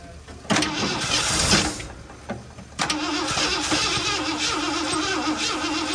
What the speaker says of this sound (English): Keep it running, Dick.